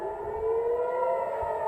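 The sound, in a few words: air raid warning sirens in Tel Aviv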